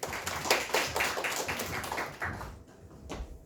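A short burst of clapping from a small lecture audience welcoming a speaker, somewhat uneven and fading out toward the end, with a few last claps.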